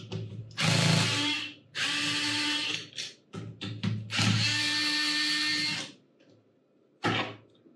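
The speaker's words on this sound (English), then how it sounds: "I'm gonna use my fancy Bosch screwdriver." A Bosch power screwdriver backs screws out of a palm router: several bursts of steady whirring motor whine, some long and some short, with brief stops and clicks between, loud and close.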